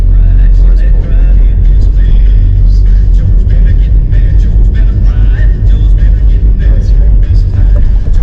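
A car driving through Philadelphia the day before the Super Bowl, heard from inside as a steady, loud low rumble of engine and road noise with faint voices in the cabin.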